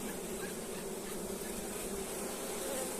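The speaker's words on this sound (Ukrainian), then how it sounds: "Бджоли активно літають, пилок збирають." Many honeybees buzz in a steady, dense drone that never lets up, flying around their hives close by.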